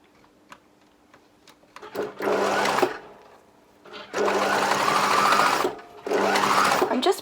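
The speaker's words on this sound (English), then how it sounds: "I'm going to sew a row of stitching about 1/2 centimetre on each side of" A sewing machine stitches bias binding trim onto a jacket in three bursts of steady, fast whirring, separated by short quiet pauses with faint clicks of handling.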